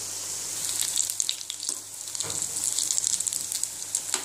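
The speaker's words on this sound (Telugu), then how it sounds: "సో ఇవి చిన్నగా వేగుతున్నాయి," Cauliflower bajji frying in hot oil, a steady bright sizzle with scattered crackles and pops that carries on without a break and without talk.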